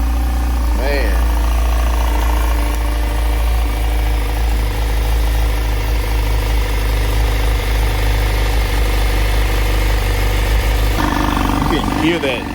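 A 2024 Honda CBR1000RR-R SP sits idling, its steady low engine drone and intake hum running continuously and fairly loud under a voice, with a brief revving swell near the end.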